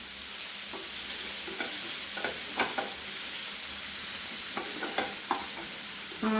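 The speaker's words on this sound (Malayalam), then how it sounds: "ഇനി ഒന്ന് ഇളക്കി കൊടുക്കണം." Elephant yam and cowpea stir-fry being stirred in a pan over low flame, a steady sizzle broken by repeated sharp spatula scrapes and clinks against the metal.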